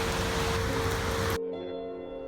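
Heavy rain pours down outdoors as a dense, steady wash, then cuts off abruptly about halfway through, leaving a faint low hum with thin tonal traces.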